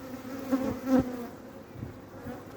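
Honey bees buzz steadily over their honeycomb at the start of the season, a close, continuous insect drone with a couple of louder swells as individual bees pass near.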